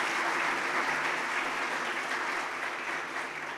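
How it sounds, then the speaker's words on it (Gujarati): Sustained applause from an audience at a community gathering in Surat, a dense steady wash of many hands clapping, loud and continuous with no voices over it. "એમના માટે એકવાર જોરદાર આપણે તાળીઓ વગાડવી છે."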